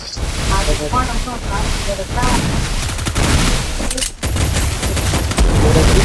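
A rapid crackling volley of firecracker bangs rattles on continuously, loud and close, with voices speaking underneath.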